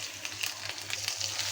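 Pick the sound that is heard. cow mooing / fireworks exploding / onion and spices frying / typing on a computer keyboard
onion and spices frying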